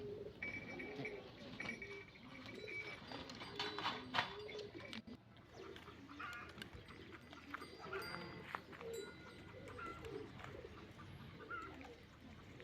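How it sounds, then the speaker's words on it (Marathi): Pigeons returning to their loft coo softly and repeatedly against a steady outdoor background, with occasional faint rustles and distant bird calls. "हवेली सो सोडलेली कबूतर आता येत आहेत हळूहळूहळू"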